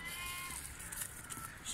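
Goats bleating on a goat farm in Dera Ghazi Khan, a short wavering call near the start over steady farmyard background noise, with a voice faintly present.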